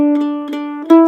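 Mandolin picking one measure of an Irish jig pattern on D: a few bright plucked notes in a lilting rhythm, each ringing out clearly and close, with no other sound.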